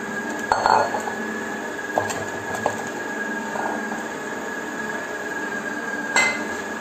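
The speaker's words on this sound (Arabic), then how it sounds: "غادي نحركو بملعقه خشبيه." A wooden spoon stirs custard cream in a saucepan on the stove, giving a few soft clinks and scrapes against the pan over a steady background hum.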